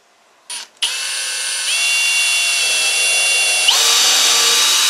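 A power drill bores a hole through a folding pocket saw blade, a steady high-pitched whine with rising pitch steps, close and loud after a brief start-up burst, with no talk.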